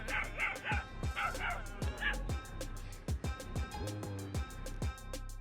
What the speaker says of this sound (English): Then the dog started barking and lunging at the lioness